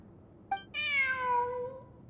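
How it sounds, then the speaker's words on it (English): A single cat meow in Genshin Impact rings out clearly: a short chirp followed by a longer, drawn-out meow falling in pitch, close and alone over a faint hum. "Look, a cat."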